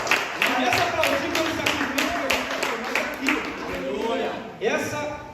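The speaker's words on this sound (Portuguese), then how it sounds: "Começa a aplaudir" A church congregation claps during a Sunday evening communion service, a rhythmic, fairly close series of claps running under a preacher's ongoing amplified speech.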